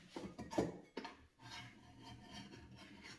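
Quick hand sanding of Rhodesian teak wood for an ice box, a few short rasping strokes close by, the first ones sharper, then a steadier softer rub, faint and alone without talk.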